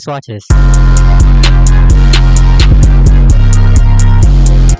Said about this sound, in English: let me play with the 808